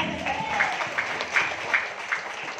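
Light applause from a small group in a training session, a soft patter of clapping with a few sharper claps standing out, moderately distant and fairly quiet.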